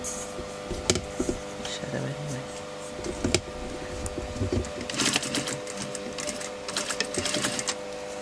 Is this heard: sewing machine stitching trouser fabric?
yes